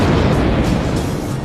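A large explosion set off against a vehicle in a blast test, a loud, dense broadband roar that fills the whole stretch and slowly fades without a distinct onset.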